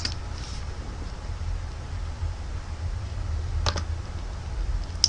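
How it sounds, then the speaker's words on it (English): A few faint, sparse keystrokes on a computer keyboard at a PC, spaced seconds apart over a steady low background hum. "So you want to type in Cam Studio."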